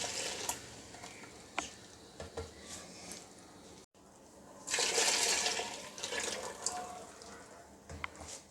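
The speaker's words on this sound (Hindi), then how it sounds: "अब मैं इसमें दही और बेसन का जो मिक्सचर मैंने बनाया था वो मैं डाल दूँगी।" A thick yogurt and gram flour mixture pours and splashes into a pot, with a louder gush midway, amid faint kitchen clatter and dripping.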